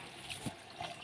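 Water runs steadily from a tap into containers being filled, a faint, continuous trickle and splash with no voices over it.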